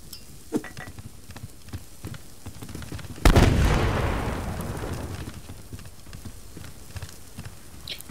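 A single heavy grenade blast in the survival game Subsistence erupts partway through, a loud boom with a long rumbling decay, set against sparse clicks and quiet background sounds.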